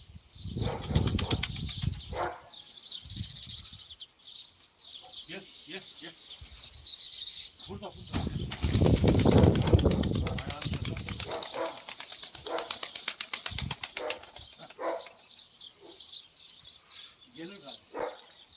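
Bursts of pigeon wing flapping as birds take off come and go, with one loud stretch of fluttering in the middle, over rustling outdoor background and occasional voices.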